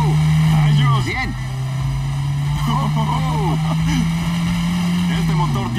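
A 1968 Chevrolet El Camino engine holds a loud, steady low drone, dipping briefly near the start and end as it revs, with excited voices cheering over it.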